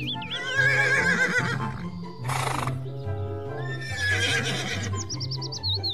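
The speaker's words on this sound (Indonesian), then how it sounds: "Widih, ada kuda Sumbawa teman-teman." A Sumbawa horse neighs in repeated loud, wavering whinnies close by, with a brief noisy burst between calls and low rhythmic thumps underneath.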